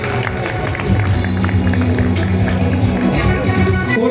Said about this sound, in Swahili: Makofi mazuri.